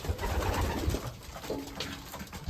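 Racing pigeons coo in their loft, soft repeated throaty calls overlapping amid rustling and shuffling, with no talking.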